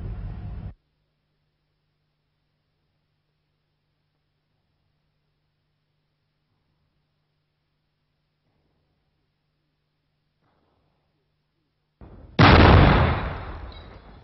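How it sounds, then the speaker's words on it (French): An experimental firedamp (grisou) explosion set off at the central rescue station of a coal mine, pit 12 of the Houillères de Lens: a single loud, sudden blast that rumbles and fades, following a long stretch of near silence. "Le Grisou explose à titre expérimental au poste central de secours"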